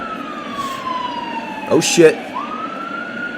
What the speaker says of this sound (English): You guys see the police sirens?